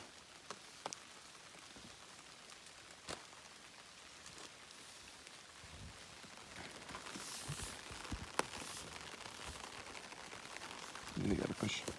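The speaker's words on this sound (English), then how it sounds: "we're gonna put up our umbrellas because it's really raining now." Steady rain patters on surfaces in a soft continuous hiss, with a few sharper taps and rustles, faint and outdoors.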